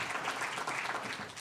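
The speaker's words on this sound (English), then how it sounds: "Let's give a big round of applause to Joni" Audience applause for Joni at a keynote gathering held in an institution, a brief steady patter of clapping hands filling the room at even loudness.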